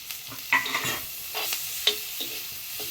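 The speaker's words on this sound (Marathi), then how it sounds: "मस्तपैकी असा मिक्स करून घेऊया कांदा टॉमॅटो आणि तिखट टाकलेला" A spoon stirs onion, tomato and chili powder in a frying pan for a Konkani-style clam dish, giving soft scraping strokes over a faint sizzle, quiet and close.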